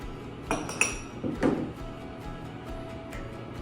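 Vanilla extract being mixed into cake batter in a bowl, a few sharp spoon-on-bowl clinks and scraping knocks in the first second and a half, then quiet stirring.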